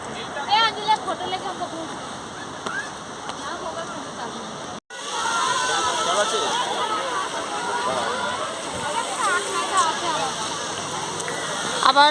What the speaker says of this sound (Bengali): বৃষ্টি শুরু হচ্ছে